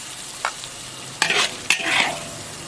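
A wok stir-fry with a Hunan-style pork intestine and greens dish: a spatula scrapes and clatters in two or three quick strokes, with oily sizzling swelling after each toss, close and clear with no talking.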